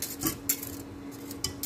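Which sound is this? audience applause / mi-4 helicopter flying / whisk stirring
whisk stirring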